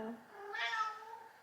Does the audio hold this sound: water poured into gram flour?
no